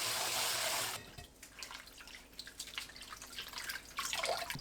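Blanched sea-blite greens get rinsed in cold water: a rushing tap pours for about a second, then soft splashes and drips of handled greens and water follow, close and fairly quiet.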